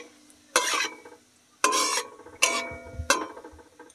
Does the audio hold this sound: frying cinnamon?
yes